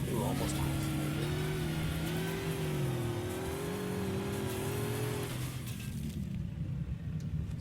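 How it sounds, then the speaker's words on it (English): Warthog vehicle in the Halo game Mutineer, its engine droning and shifting pitch as it drives, steady and loud before dropping to a lower rumble near the end, with some speech mixed in. "let's see how this warthog can go there"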